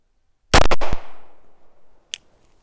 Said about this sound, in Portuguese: E agora, terceiro disparo, munição Federal 147 grains.